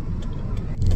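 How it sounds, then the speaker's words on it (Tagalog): A car passes on a road in Japan, heard as a short, close engine and tire rumble that swells toward the end of the moment. "Yung daming traffic guys."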